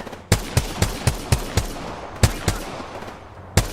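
Hemlock rifle fire in a video game: about ten sharp, loud shots in a steady, evenly spaced rhythm, each cracking close by, with no voices over them.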